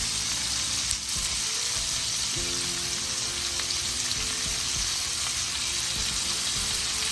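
Ingredients for a pumpkin leaf and shrimp paste fry in a pan, giving a dense, continuous sizzle that stays steady and fairly close throughout.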